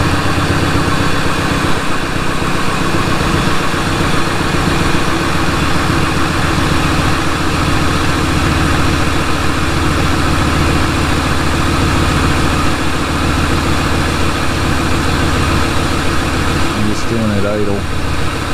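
A car engine idles steadily through a battery charging test, a continuous low rumble with a constant hum; a person speaks briefly over it near the end.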